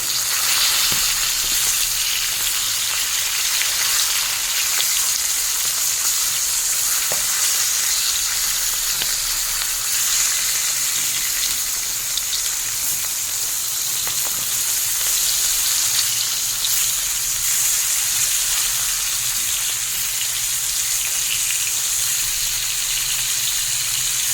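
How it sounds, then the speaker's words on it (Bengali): Katla fish pieces fry in mustard oil, giving a continuous bright sizzle and crackle with occasional small pops. The sound stays close, steady and unaccompanied. "এই পিঠটা ভাজা হয়ে গেছে, এবার উল্টো পিঠটা ভালোভাবে ভাজা হয়ে যাক।"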